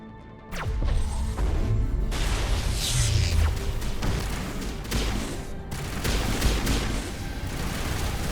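Gunfire in a Mass Effect firefight: sustained rapid shots and crashing impacts, loud and continuous after a brief quiet start, with no talking over it.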